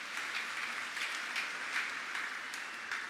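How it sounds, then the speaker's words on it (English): An assembly honouring religious congregations breaks into applause. Many hands clap in a continuous, even wash that sounds somewhat distant and soft. "Let's give them a round of applause"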